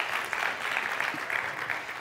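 A round of applause from the audience at a competition grand finale, a brief, fairly loud burst of many hands clapping steadily throughout.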